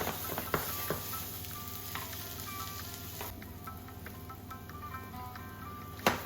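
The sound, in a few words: aubergine and potato sizzling as they grill in a pan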